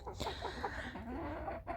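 Chickens and roosters, including Chinese Silkies, cluck and murmur nearby in short, soft calls, a quiet back-and-forth of farmyard fowl with no speech.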